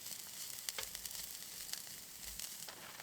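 Finely chopped bacon sizzles in butter in a pan while winter camping outdoors, a soft, steady crackle with faint pops throughout, fairly quiet.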